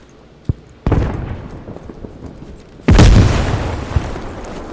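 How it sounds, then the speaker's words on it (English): A C4 charge detonates in a combat video game: a couple of sharp pops and a rumbling blast, then a large, close explosion that bursts loudly and tails off into a long rolling roar. "And there goes the C4."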